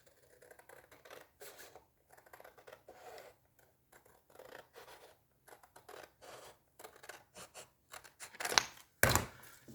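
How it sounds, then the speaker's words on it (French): Scissors snip through a paper strip in faint, irregular small cuts, with a couple of louder clicks near the end and no talk. "Je vais y aller au ciseau."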